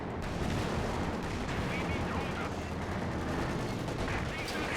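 Panzer IV tank cannon fire in a real-time strategy game match, heavy continuous battle noise with booming shots and rumbling explosions, loud and dense throughout, with a commentator's voice partly under it.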